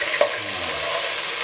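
Atta dropped into hot oil for chicken bhuna khichuri, with continuous close sizzling, a brief sharp spatter early on, and a faint low pan rumble beneath, no one speaking.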